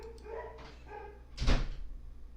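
A dog barks repeatedly somewhere outside, its calls carrying over a steady low background hum and swelling into a louder burst before fading.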